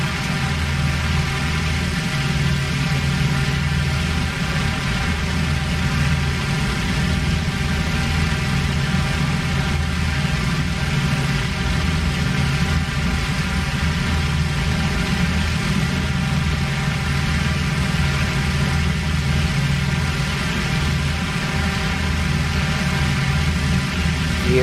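A WWII aircraft engine in a flight game runs steadily as the plane rolls out for takeoff, a constant loud droning hum with a low throbbing rumble that holds level throughout, no voices over it.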